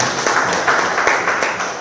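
Audience of court drivers at a training session for Tanzanian judiciary transport officers applauding, a short burst of clapping in an indoor hall with a few louder claps standing out.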